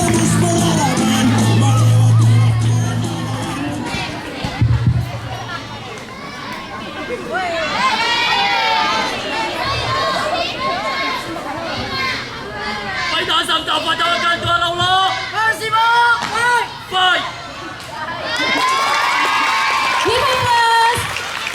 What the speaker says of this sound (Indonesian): Beri tepuk tangan apresiasi yang meriah.